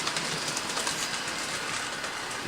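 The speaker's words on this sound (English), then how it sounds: "trains pick up speed right here, going that way" A model train runs along a layout track, its steady clickety-clack and faint wheel squeal rolling continuously at moderate volume with no one talking.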